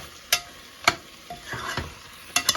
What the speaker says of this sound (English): Now at this time I'm going to add the stock